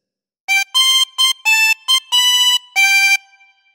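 A chromatic harmonica plays a short Pop Goes the Weasel phrase, seven bright reedy notes of varying length in a bouncy rhythm, close and clear, the last note trailing off into silence.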